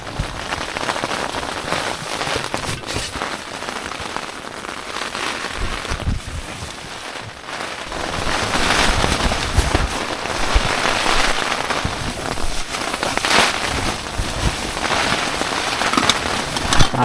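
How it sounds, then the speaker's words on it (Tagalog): Heavy rain and strong wind lashing a tent on the summit of Mt. Napulauan in Hungduan, Ifugao, during a typhoon, a dense, loud, steady roar of drumming drops throughout with gusty swells. "Umuulan sa labas."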